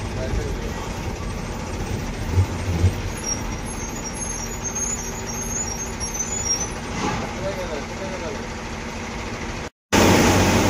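A Tata BS6 Hirkani MSRTC bus drives along a highway and overtakes, its engine droning steadily with road roar and a brief hiss of air brakes, heard from inside the cabin.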